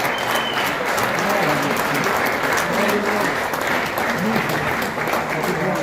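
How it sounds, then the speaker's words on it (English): Audience applause fills a Kosovo Independence Day celebration in New York City, a dense, steady wash of clapping from a large crowd that holds at an even level throughout. "Let's give a round of applause."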